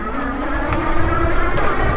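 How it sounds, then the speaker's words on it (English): A Citizen3.0 electric bike accelerating hard with its front wheels spinning gives a steady, loud whirring drone under rushing wind noise. It continues without a break and builds slightly in intensity. "You can hear the front wheels spinning as I'm building speed."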